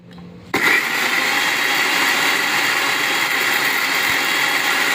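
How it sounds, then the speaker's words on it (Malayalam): A mixer grinder whirs loudly and steadily while grinding onion and Kollam chillies, starting abruptly after a short quiet moment and holding a dense, continuous roar. "സബോളയും അതുപോലെ തന്നെ നമ്മുടെ കൊല്ലമുളകും കൂടി നമുക്ക് മിക്സിയിലൊന്ന് ഇട്ടൊന്ന് പൊടിച്ചെടുക്കാം."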